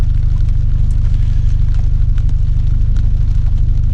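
A 2016 Mercedes-Benz GLA45 AMG engine and exhaust idle with a steady, fast low-pitched pulse and a rough, burbling rumble, close and loud throughout without talk.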